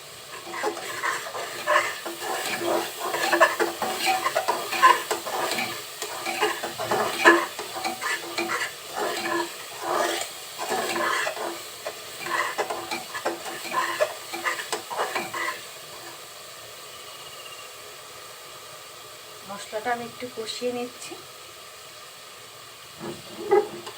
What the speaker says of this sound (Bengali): মশলা থেকে এভাবে তেল ছাড়তে শুরু করবে